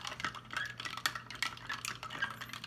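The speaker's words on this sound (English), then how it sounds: "And stir it together." A sauce is stirred in a bowl or pan, producing quiet, irregular scraping and clinking of a utensil against the container in short, uneven strokes.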